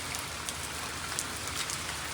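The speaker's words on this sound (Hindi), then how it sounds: "ये देखो भाई साहब कितना तेज हो गया बारिश" Heavy rain pours down steadily in Islamabad, a dense, loud, continuous hiss of drops hitting surfaces close by, with no voices over it.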